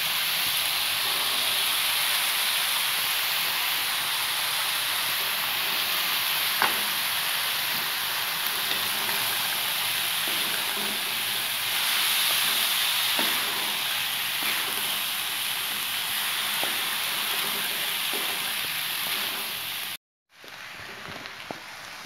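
Mixed beans frying in a pan for chaat, a steady close sizzle and hiss that runs throughout, with faint scattered clicks and a brief dropout near the end.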